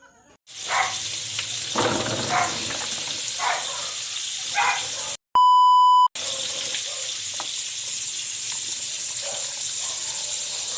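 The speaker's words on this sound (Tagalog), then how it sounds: "Ang ingay ng mga aso kasi may nangangatling." Dogs bark in scattered bursts over a steady hiss of running water in a vegetable garden during a peanut harvest, broken midway by a loud electronic beep tone.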